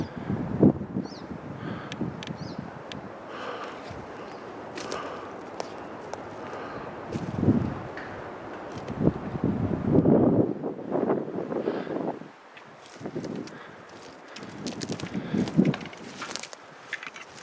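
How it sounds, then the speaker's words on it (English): Strong wind buffets the microphone in rumbling gusts that rise and fall on top of a hill, with occasional footsteps or rustling mixed in. "It is very windy up top."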